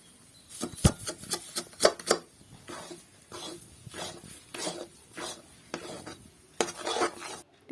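Cauliflower dhoka mixture being stirred in a pan with a spatula, giving irregular scraping and rubbing strokes, some sharp and loud and others softer, spread across several seconds with no talking.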